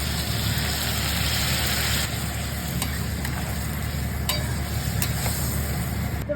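Fried okra is stirred into a sizzling spice masala in a pan for a spicy okra and prawn dish. A steady, close frying hiss runs throughout, with occasional sharp scraping clicks of the stirring spoon.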